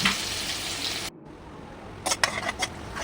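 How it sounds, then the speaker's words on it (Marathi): Finely chopped onion sautés in hot oil in a pan, a steady sizzle that drops out abruptly midway, then returns with a few sharp stirring scrapes and clinks of a spoon against the pan. "नंतर तेलामध्ये 1 बारीक चिरलेला कांदा परतवून घ्यायचा."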